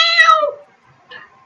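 A human voice imitating a cat, giving one loud, close, drawn-out meow and then a shorter, quieter meow after a brief pause.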